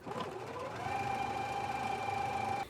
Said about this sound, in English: go ahead and take them to the sewing machine and stitch your darts in place now.